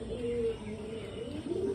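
Faint, soft cooing from young pigeons in rainy weather, a low drawn-out tone with slight wavering, quiet and somewhat distant against steady background noise.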